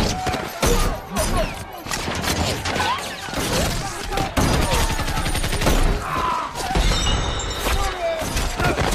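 Loud shootout between a lone gunman with a pistol and civilian rebels in an action film, overlapping shots and shattering impacts in rapid, chaotic volleys, with a faint narrating voice beneath.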